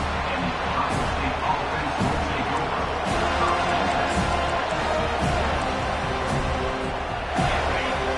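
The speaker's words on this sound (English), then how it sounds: "and this crowd trying to help keep them there." Steady stadium crowd roar from the college football video game NCAA Football 25, a constant loud wash of cheering and crowd noise under a commentator's voice.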